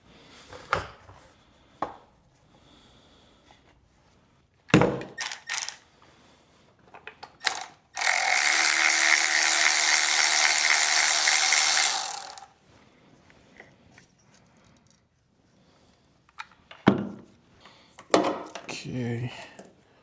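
A ratchet working ignition coil bolts loose on a Chrysler Crossfire engine, heard as scattered clicks and clanks, then a sustained steady whirring burst of about five seconds, followed by more sharp tool clatter near the end.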